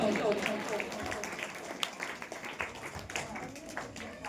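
At an annual school prize-giving ceremony, an audience claps for the first-place student. The scattered, moderately faint clapping is mixed with background talk.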